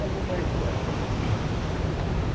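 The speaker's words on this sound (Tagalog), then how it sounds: "Makikita nyo naman yung payapang napakagandang bagsakan, agusan ng tubig na matatagpuan dito sa Linaw Baboy Falls" Water at Linaw Baboy Falls flowing and falling in a steady, dense rushing roar that stays constant throughout, with no pauses.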